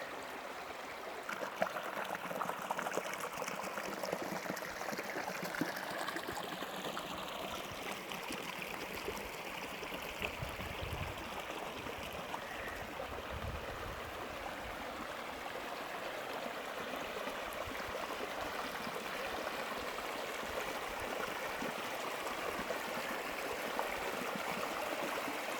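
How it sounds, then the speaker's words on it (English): Water rushes heavily through a dam in Algonquin Park, a steady broadband roar of flowing, splashing water that stays loud and constant throughout with no talk. "the water level is really high because it's running so heavy through this spot here"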